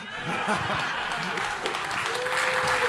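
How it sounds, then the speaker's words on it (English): An audience at a Donald Trump town hall in Sandown, New Hampshire breaks into dense, sustained applause with some chuckling, while an announcer's amplified voice speaks over the clapping. "Give a big Sandown, New Hampshire round of applause."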